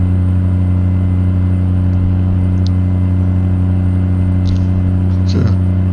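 Steady low diesel drone from a Peterbilt 379 truck engine with a DDC engine hauling an oversized load in American Truck Simulator, constant and prominent throughout, with a faint voice and a brief downward sweep near the end.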